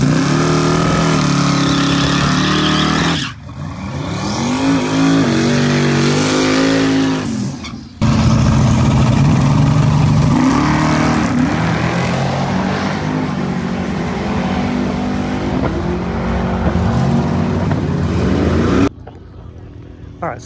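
A drag race car with a new fuel system roars loudly through a pass at a nighttime race week event, engine noise rising and falling with brief gaps, steady and close for most of the run.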